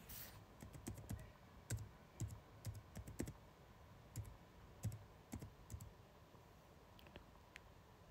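Typing on a laptop or PC keyboard, soft scattered key clicks in irregular bursts, close and quiet with no talking.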